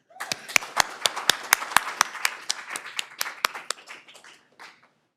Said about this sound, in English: And one last round of applause for all the presenters.